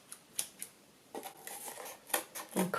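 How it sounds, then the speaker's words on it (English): Scissors snip through cardboard traced around a CD, a few sharp separate cuts followed by a quicker run of closer crunching snips, near and fairly quiet. "Get your scissors"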